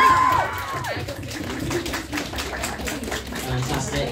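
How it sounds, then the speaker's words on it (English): Applause from a cosplay competition audience at an anime convention, a dense patter of clapping that carries on steadily, with some crowd noise mixed in. "a round of applause from the audience"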